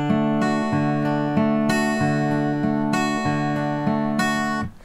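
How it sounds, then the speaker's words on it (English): Fingerpicked acoustic guitar plays a steady arpeggiated pattern over a repeated chord, each bass note followed by a continuous run of eighth-note plucks with no gaps, clear and close with no talking, ringing out at the end. "If I played pattern 4, it sounds like this."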